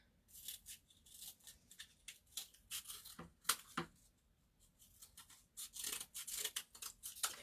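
Scissors cut shapes out of cardboard in a series of quiet, close snips and rasps, in bursts separated by short pauses, with no voices.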